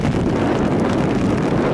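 Heavy wind buffets the microphone outdoors at an amateur Romanian football league playoff match, a constant low rumbling roar that fills the brief moment with no other sounds standing out.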